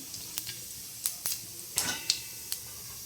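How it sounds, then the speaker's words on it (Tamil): Cumin seeds hitting hot oil in a kadai give a quiet crackle of scattered pops and short hissing bursts, irregular and close, with no one talking. "இப்போ கொஞ்சம் கடாயில் எண்ணெய் ஊற்றிக்கணும், சீரகம் போட்டுக்கணும் ஃப்ரெண்ட்ஸ்"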